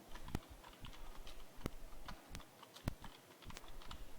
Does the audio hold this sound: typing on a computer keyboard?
yes